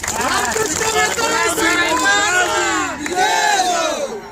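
Party workers at a campaign launch shout and cheer together as a loud, close crowd, with rising and falling voices forming a continuous roar and no single speaker standing out.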